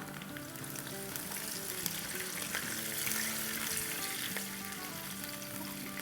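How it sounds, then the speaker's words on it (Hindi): Garlic and ginger, sautéed until lightly browned, get a cup of water poured over them. The pan answers with a loud, steady, crackling sizzle and bubbling that runs the whole time, with no talking. "इस पॉइंट पर हम डाल देंगे 1 कप पानी।"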